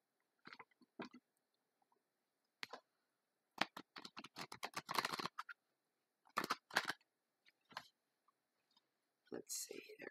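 Tarot cards are shuffled during a three-card spread, heard as quiet, intermittent bursts of papery riffling and clicking scattered in short clusters between silences, with no talk over them.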